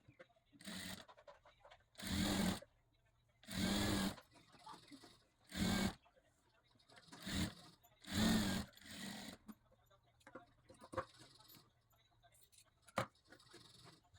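A sewing machine stitches a katori blouse in several short bursts of rapid whirring, separated by pauses, with a voice talking quietly between runs.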